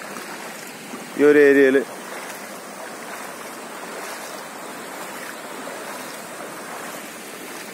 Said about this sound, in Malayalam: വളരെ ശക്തമായ ഒഴുക്ക് തന്നെയാണ് ഇവിടെ ഉള്ളത്